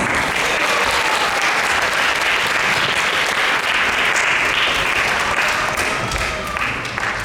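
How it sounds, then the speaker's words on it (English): Loud, dense applause from an audience welcoming speakers to a Sunday feast presentation at a Hare Krishna gathering, continuous close clapping for the full stretch that eases only slightly at the end. "we'll ask for everyone to welcome them with a round of applause"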